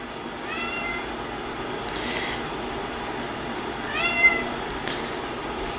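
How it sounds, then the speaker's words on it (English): A domestic cat meows twice nearby, once early and once near the end, each a short rising-falling call over a quiet indoor background during a beadwork session. "Please excuse my crazy cat."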